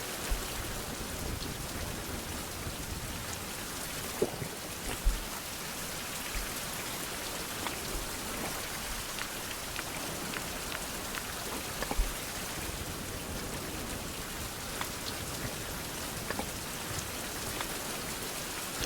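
Steady, dense rainfall in the 16th-century survival video game Survival: Fountain of Youth, a constant hiss of drops on surfaces with a few louder patters, no voices.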